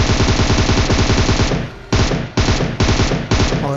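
Rapid automatic gunfire in a battle royale shooter game, loud close bursts of rattling shots followed by several sharp single shots spaced about half a second apart.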